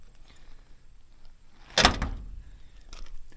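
The door of a diesel-swapped Ford Bronco II is opened with one sharp, close latch clack and a rattle, then quieter shuffling.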